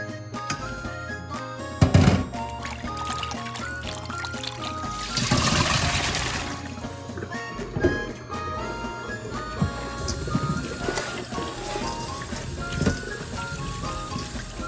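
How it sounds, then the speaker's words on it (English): Running tap water splashing over fruits and vegetables being rinsed at home, a continuous trickle with occasional louder gushes and clatter, while music plays alongside. "then now I rinse off"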